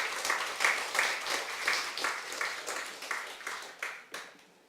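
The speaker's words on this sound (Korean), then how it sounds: "다시 한번 우리 박수로 환영하겠습니다." Warm applause from a church congregation welcoming someone during a service, a dense wash of many hands clapping at moderate volume that swells in several waves and then thins out toward the end.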